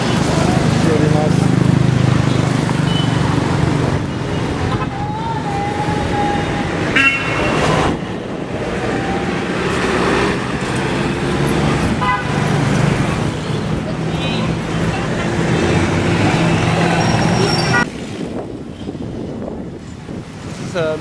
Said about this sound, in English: Unlike Thailand, they honk their horns.